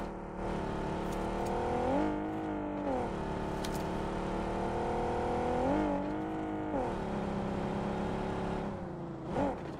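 Car driving in PUBG Mobile, a steady engine whine that dips and swells as it shifts or changes speed, continuous and fairly close, with no talk over it.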